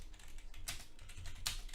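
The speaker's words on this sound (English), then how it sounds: "And now I'm gonna be typing." A few quick keystrokes tapped on a computer keyboard, recorded with a Rode NT1-A microphone, close and fairly quiet, in short bursts.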